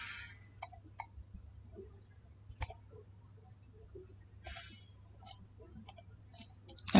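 Sharp, faint computer mouse clicks sound one at a time at irregular intervals across several seconds against a quiet low hum, with no talking.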